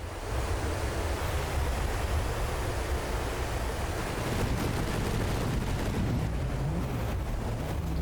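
Mortar and gun fire during a battleship battle in the game From the Depths, heard as a dense, continuous roar of booms and rumbling across the whole clip, loud and with no talk over it.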